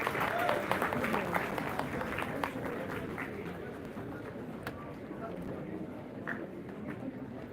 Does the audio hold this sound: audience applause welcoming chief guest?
yes